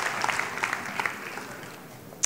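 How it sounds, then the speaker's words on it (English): Light scattered clapping from a conference audience at SIX Wayfinder in Istanbul as a speaker leaves the stage, faint and thin with a few sharper claps standing out. "let's give him another round of applause"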